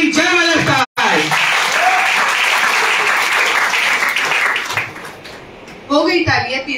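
A seminar crowd claps in a loud, dense burst that holds steady for several seconds and then thins out, with a voice speaking at the start and again near the end.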